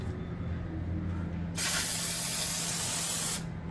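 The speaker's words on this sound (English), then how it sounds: "Give a little spritz here with some parts cleaner." A steady aerosol hiss of parts cleaner sprays for about two seconds on a classic car's differential after a fluid change, loud and close over a low hum, then cuts off abruptly.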